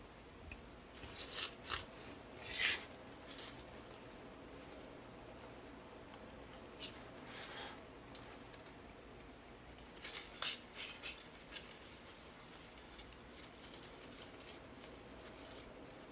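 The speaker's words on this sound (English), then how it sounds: "then we'll cut our ribbon tails" Scissors snip ribbon tails while finishing a magnolia grapevine wreath, giving a few quiet, scattered cutting bursts over a low room hum.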